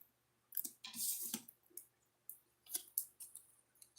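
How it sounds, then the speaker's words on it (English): A deck of oracle cards being shuffled twice by hand, giving quiet bursts of riffling, flicking clicks separated by short pauses. "Let's do two shuffles."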